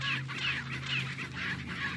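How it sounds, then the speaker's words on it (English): Chickens in the Resident Evil 4 video game cluck in a repeated rhythmic pattern, about five evenly spaced calls over a steady low background hum, with no talk. "yeah, I'm at the chickens."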